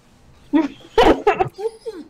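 A pet dog whimpers in a few short, high, whiny bursts close by, with a person talking to it in between.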